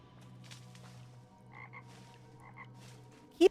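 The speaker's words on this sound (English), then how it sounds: "Keep hearing frogs, but where are they?" Frogs croak in the Luma Island video game, giving a few soft paired croaks over a steady low hum in a quiet night setting, with a brief louder thump at the end.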